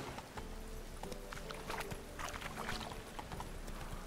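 Roach the horse gallops in The Witcher 3, rapid rhythmic hoofbeats thudding steadily under a full game soundscape with music and ambience, loud and continuous.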